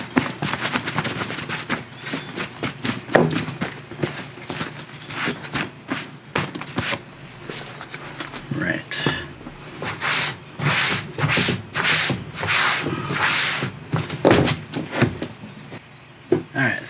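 Stiff bristles rubbing quickly across a leather Coach purse to clear away particles, a close scratchy brushing in repeated strokes with brief pauses, with some talk over parts of it.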